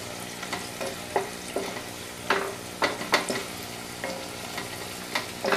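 Potatoes fry in hot oil on a stovetop for a fish curry, giving a steady crackling sizzle broken by several sharper pops and stirring clatters, with no talking.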